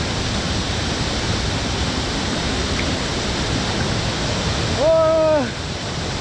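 Steady broadband rush of a waterfall at Devkund in Mayurbhanj, a continuous roar filling the whole scene; near the end a brief tonal whistle or call rises briefly above it.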